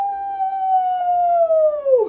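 Children imitate a werewolf howl together, one long, loud, sustained wavering voice-like wail that slides slowly downward and drops off sharply at the end, with no talk.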